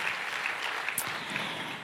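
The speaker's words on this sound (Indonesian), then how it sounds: "Yang mau beri tepuk tangan dulu yuk buat Tuhan kita Yesus Kristus." A church congregation claps together in a dense, steady round of applause, a continuous crackle of many hands filling the hall.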